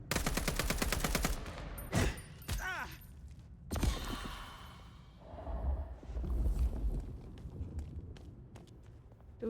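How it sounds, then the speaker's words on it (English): Rapid gunfire bursts in Vampire: The Masquerade Bloodlines 2, with loud clustered shots early on, then quieter game sounds and footsteps. "Let's shoot that fellow."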